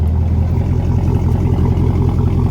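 A 2021 Chevrolet Silverado with a 6.2L V8, true dual exhaust and an X-pipe idles steadily, a loud, deep, even rumble with a continuous low burble and no revving.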